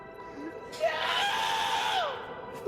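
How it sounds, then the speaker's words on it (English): A person screaming in the distance, a drawn-out wailing cry that rises and bends in pitch over a couple of seconds, heard faintly in the background with a short yell at the end. "Is someone screaming in the background?"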